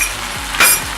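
Mutton fry with garam masala stirred in a pan, a brief steady sizzle with a couple of spatula scrapes and one louder hiss surge.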